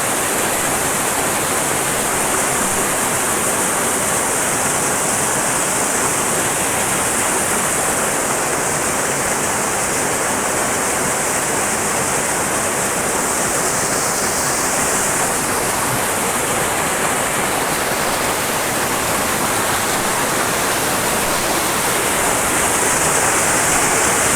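Mugarpir waterfall in Kanrach, Balochistan, pouring into a small pond, a loud, constant close-up rush of falling water with no voices.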